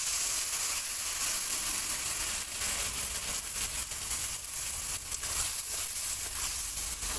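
Spice paste mixed with water sizzles loudly in a pan with potatoes, a continuous bright hiss of frying that holds steady throughout with no talking.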